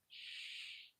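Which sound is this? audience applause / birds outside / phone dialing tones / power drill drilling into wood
birds outside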